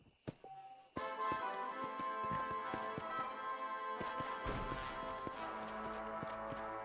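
Horse hooves clip-clopping in Red Dead Redemption, a steady run of close, crisp hoofbeats on hard ground with a rhythmic gait, alone without talk.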